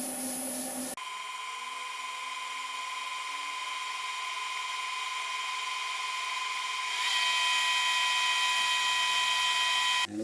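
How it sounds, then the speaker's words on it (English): A wood lathe spins steadily with a high, constant whine and tonal hum that holds for about ten seconds, loud and close, shifting slightly in pitch partway through, with no talking. "spin the lathe again"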